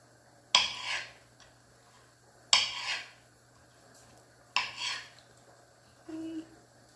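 A knife cuts banana slices in half on a board, making three evenly spaced, soft scraping chops about two seconds apart, then a lighter tap, close and quiet.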